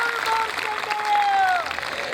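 An audience claps together at a Telugu Ram Katha religious discourse, a dense burst of applause lasting about two seconds, with a high tonal ringing running through it.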